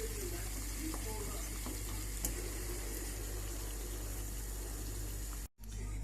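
Boiled Kayseri manti dumplings drain in a strainer, giving a steady close rush of trickling water that runs without pause and cuts off abruptly near the end.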